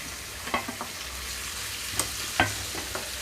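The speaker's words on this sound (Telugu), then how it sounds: "ఇప్పుడు నేను ఈ పొట్లకాయ ముక్కలన్నీ కూడా ఇందులో వేసేస్తున్నాను." Ridge gourd pieces and onions stir-fried in a pan, giving a quiet steady sizzle with a few soft scraping stir clicks scattered through, close and fairly faint.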